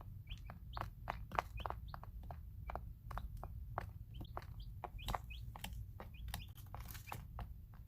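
Day-old-week chicks, eight days old, peeping in rapid high chirps with occasional soft clucks, a busy continuous chorus close by over faint background noise, no talking.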